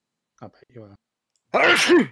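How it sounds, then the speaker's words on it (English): A single sharp human sneeze bursts out loud and close after a brief spoken phrase and a pause. "I'm going to sneeze again in a minute."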